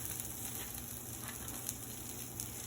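Potatoes frying in a hot pan give a steady, dense sizzle that holds at an even level throughout, with no talking over it.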